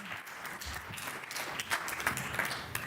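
Applause from an audience of sales leaders at a B2B SaaS event, a moderate, steady patter of many hands lasting a few seconds, somewhat distant, with a few sharper claps standing out near the end.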